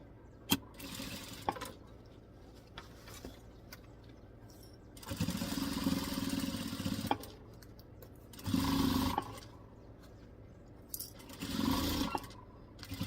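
Sewing machine stitching folded bias binding onto fabric scraps for a small bag, running in three loud bursts of steady whirring separated by quieter pauses, with a couple of sharp clicks early on.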